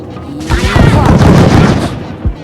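Several loud, sharp gunshot bursts from the video game Wormix crackle in quick succession, with voices talking over and around the shots.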